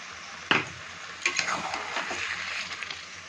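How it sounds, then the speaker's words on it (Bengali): Mutton being stirred together with sour yogurt and spices in a pan, a few sharp scraping clinks of a spoon against metal followed by softer, irregular stirring and light ticking contact sounds, close and moderately quiet. "দইটা কিন্তু মাংসের সঙ্গে ভালোভাবে মিশিয়ে নেব"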